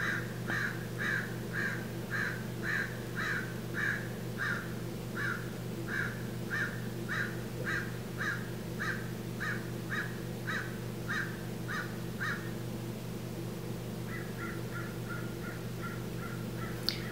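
Crows caw steadily in a long rhythmic series of harsh calls at a moderate distance, pausing briefly before a shorter, quicker run of caws.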